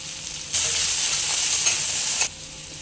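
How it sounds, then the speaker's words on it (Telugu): Chopped capsicum and coriander fry in a pan for pasta, a loud close sizzle swelling as the pan is stirred, then dropping back to a quieter hiss near the end. "క్యాప్సికమ్ ముక్కలు బాగా మగ్గిపోయాయి కదా. ఇప్పుడు ఇందులో కొత్తిమీర వేసుకుందాం."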